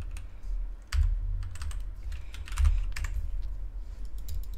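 Rapid clicking of keys on a computer keyboard, fairly close and steady, with a few heavier thumps, heard alone without speech.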